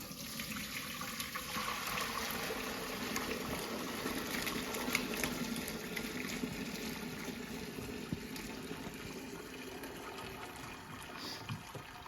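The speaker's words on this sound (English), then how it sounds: "I'm going to strain this" Turkey noodle soup pouring through a strainer into a stock pot, a steady splashing, trickling stream of liquid that runs continuously at moderate level.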